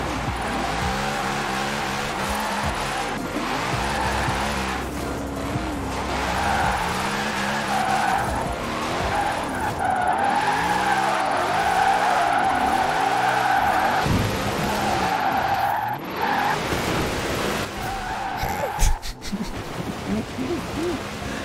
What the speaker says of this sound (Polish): na trybie symulacyjnym w ogóle inaczej się driftuje samochodami z napędem na tył w stosunku do normalnego trybu prowadzenia samochodu